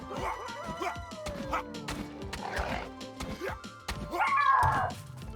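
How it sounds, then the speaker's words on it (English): Dogs in the video game Aska bark and yip in short, scattered bursts amid busy game sounds, moderately close, with some brief talk mixed in. "Bark bark!"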